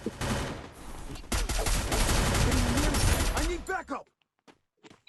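Gunfire in the Free Fire mobile game comes as dense rapid bursts and shots for several seconds, then stops abruptly, with excited voices talking over it near the end.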